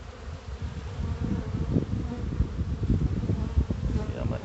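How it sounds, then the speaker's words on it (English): A dense clump of honey bees clustered at a hive entrance at night gives off a steady, close, full-bodied buzzing hum with no voices. "this entire entrance is completely clogged up with a big clump of bees at night"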